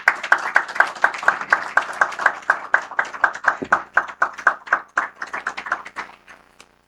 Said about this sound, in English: With a huge round of applause, please welcome sir onto.